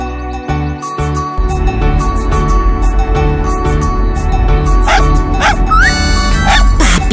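A puppy barks in the street in an animated children's story, with several short yips and whimpers over loud, continuous background music.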